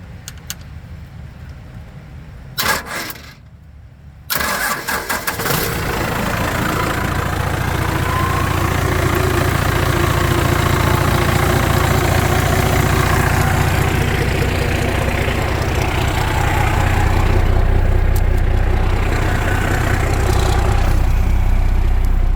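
An engine is cranked off a Milwaukee 18V 5.0 lithium battery. After a few short bursts it catches and settles into a loud, steady, rumbling idle that continues close by.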